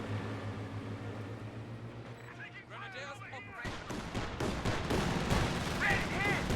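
Gunfire and shelling in a Company of Heroes 2 match, quiet at first and then erupting into loud overlapping bursts and booms, heard under a commentator's voice.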